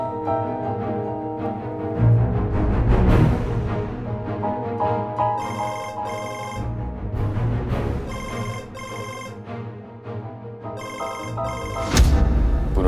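A phone rings with an incoming call, its electronic ringtone repeating in bursts over a dramatic music score that plays throughout.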